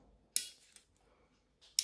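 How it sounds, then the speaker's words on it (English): Small nail scissors snipping a cuticle during a gel nail extension job on short bitten nails, two or three sharp, close clicks separated by quiet, with no talk. "you could just remove the cuticle by cutting it"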